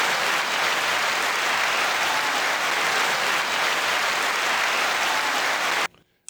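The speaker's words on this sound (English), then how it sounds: "9-second applause to you all." A crowd claps in sustained, even applause for about six seconds, loud and close, then it cuts off abruptly into near silence.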